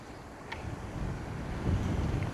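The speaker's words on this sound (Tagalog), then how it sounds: "It's again windy." Steady wind gusts buffet the microphone during an evening road bike ride, a continuous low rumble that swells slightly toward the end, with no talking.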